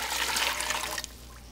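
Water pouring into a big pot for sugar-water nectar, a loud rushing splash that runs steadily and then cuts off abruptly near the end, leaving a low hum.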